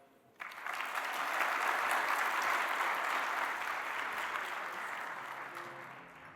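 Sustained applause from a large audience at an award gala ceremony, starting abruptly and holding steady and full for several seconds before beginning to taper slightly.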